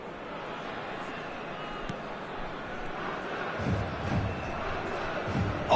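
Football stadium crowd at a World Cup match, a broad continuous roar of cheering and babble with swells toward the end.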